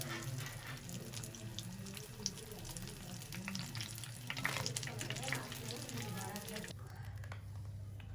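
Cheesy vegetable box patties fry to light golden in a pan, a steady close sizzle with crackles and a voice speaking over it, before the sizzle drops off abruptly near the end.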